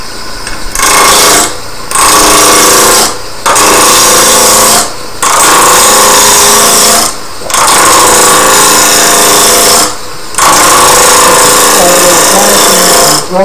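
A wood lathe at around 2,000 rpm turns a meat tenderizer mallet blank under a roughing gouge, giving loud, harsh, rattling cutting passes broken by several short pauses as the tool lifts away.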